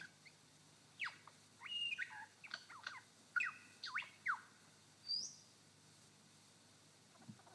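A lyrebird in a Victorian forest mimics a crimson rosella: a series of short, bright, whistled chirps and sliding notes in quick bursts, fairly close and clear over a quiet background.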